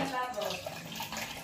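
Water runs from a sink faucet in an office after a water tank is opened, a steady close rushing flow throughout with a person talking over it.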